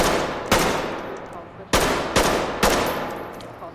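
Four single gunshots from British weapons fired one at a time in the tactical shooter Ready or Not, loud sharp cracks each trailing off into a decaying tail, spaced irregularly over a few seconds.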